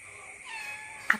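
A small pet cat gives a single soft, drawn-out meow, faint and close, with no other sound around it.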